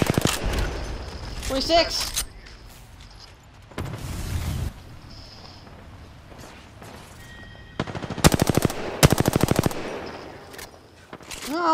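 Rapid automatic gunfire in the video game Apex Legends, several loud, sharp bursts of fast repeated shots with a heavy boom early on, while a player talks excitedly between volleys.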